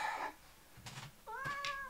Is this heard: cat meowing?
yes